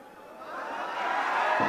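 Crowd applause at an Imran Pratapgarhi shayari recital swelling quickly, clapping and faint cheering growing louder over a couple of seconds.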